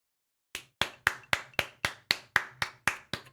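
A slow, regular series of about eleven sharp claps, evenly spaced and close, like one person clapping alone after a short silence.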